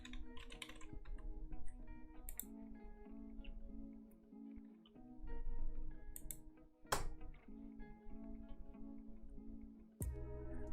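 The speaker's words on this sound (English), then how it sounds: "I'm going to type it here." Keys on a computer keyboard clatter in quick irregular bursts as an email address is entered, with brief pauses and a few sharper clicks, over a quiet steady humming background tone.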